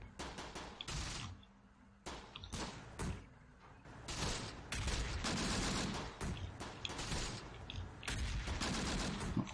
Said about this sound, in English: Getting these hits with the mortar